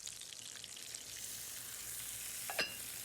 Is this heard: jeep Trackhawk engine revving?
no